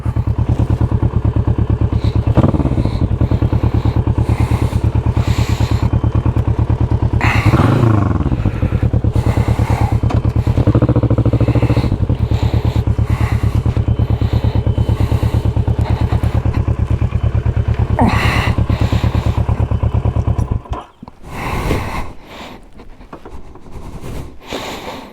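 A motorbike engine runs loud and close on a muddy lane, a steady low drone with thumps and clatter as the bike struggles, then cuts out abruptly near the end, leaving rustling and handling noises.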